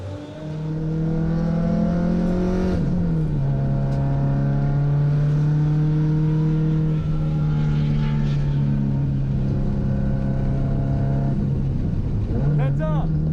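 A street car at a Road Atlanta time attack event runs hard, its engine droning loud with a steady pitch, briefly dipping on a shift and then climbing again near the end.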